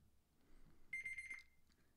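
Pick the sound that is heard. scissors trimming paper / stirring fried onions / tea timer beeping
tea timer beeping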